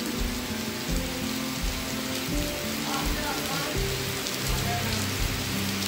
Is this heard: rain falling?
yes